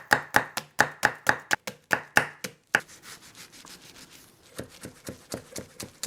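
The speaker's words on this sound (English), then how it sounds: "Run my knife through this one more time." A knife chops sweet Vidalia onions on a cutting board in a quick run of sharp, evenly spaced strokes. After a short scraping pause, a lighter series of taps follows. The sound is close and clear, with no voices.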